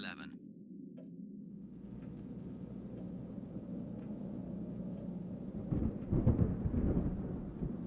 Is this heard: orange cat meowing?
no